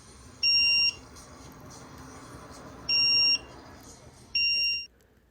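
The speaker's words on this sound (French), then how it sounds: "la combinaison des deux fait allumer la lumière rouge et l'alarme se déclenche" Fire alarm sounding three separate piercing electronic beeps, each about half a second long with long gaps between them, fairly quiet over a low background hum.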